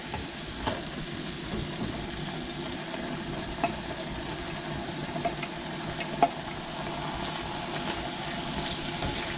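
Cocoa powder is stirred into melted butter in a hot pan over a burner, giving a steady soft sizzle with scraping and scattered light taps of the utensil, close and continuous with no talk.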